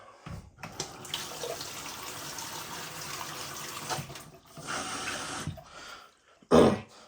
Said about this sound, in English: Now all we need to do now is add a little bit of water.